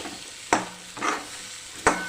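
Cluster beans being stirred in a hot tempering in a pan: three sharp scraping clanks spaced out over a soft sizzle, close by and fairly quiet.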